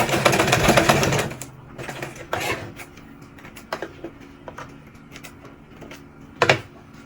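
A sewing machine stitches padded turban fabric in short bursts, a fast whirring rattle up close that starts loud, then gives way to scattered taps, handling noises and a final brief run.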